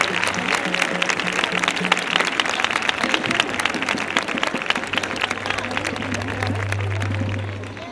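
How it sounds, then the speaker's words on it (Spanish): Loud, dense applause from a crowd at the Plaza Vieja carnival proclamation in Chipiona, steady and sustained throughout with a low hum running underneath. "Otro aplauso muy fuerte."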